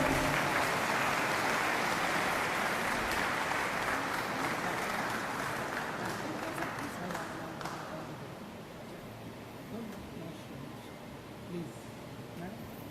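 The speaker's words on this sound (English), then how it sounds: "Can I have a big round of applause" An audience at a government inauguration event breaks into a dense round of applause that stays strong for several seconds, then thins and fades to scattered claps and room noise.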